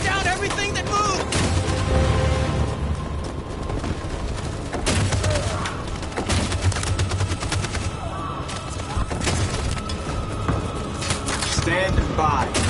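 Dense bursts of machine gun and rifle fire crackle through a chaotic combat scene in the video game Detroit: Become Human, loud and continuous, with shouted voices mixed into the gunfire throughout.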